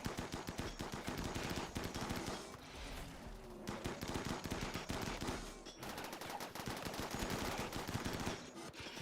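Rapid bursts of gunfire in a RimWorld battle against mechs, dense machine-gun rattles and overlapping shots nearly continuous throughout, loud and close with brief lulls between volleys.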